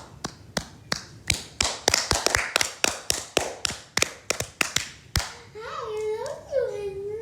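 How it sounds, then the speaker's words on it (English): A run of sharp, close hand claps in an uneven rhythm, roughly a dozen and a half hits, then a voice chatters briefly at the end. "Clap."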